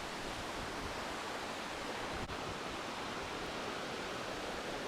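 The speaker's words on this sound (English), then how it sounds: "to the rear of us is a babbling brook" A babbling brook at a lakeside camping park in Windermere, Cumbria, flows in a steady, even rush of water, continuous and moderately loud with no voices over it.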